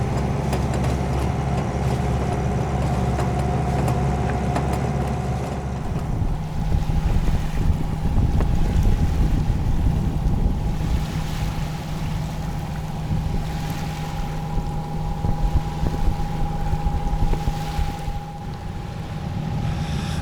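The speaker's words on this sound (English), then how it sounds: "we don't have a lot of wind, so we're motor sailing again" A sailboat motor-sails in light wind: a steady low engine drone runs continuously beneath wind buffeting the microphone and the wash of water, with a faint tonal hum throughout.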